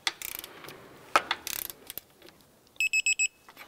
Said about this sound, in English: I'm gonna torque these down to 108 foot-pounds.